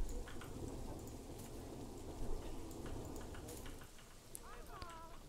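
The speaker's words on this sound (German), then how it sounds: "Jetzt fängt es schon wieder an zu regnen, ey." Steady rain falls in Planet Zoo as a dense hiss with a low rumble of thunder, continuous and fairly loud, with a brief faint chirp near the end.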